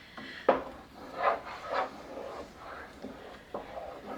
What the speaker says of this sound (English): I'm going to make sure you're scraping the bottom. Just so it doesn't scorch.